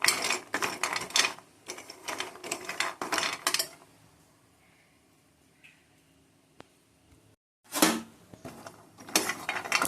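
Ingredients for homemade protein powder are dry-roasted in a pan over medium heat, with bursts of close metallic scraping and clattering from stirring, a quieter stretch with faint knocks, a brief silence, then more rapid scraping.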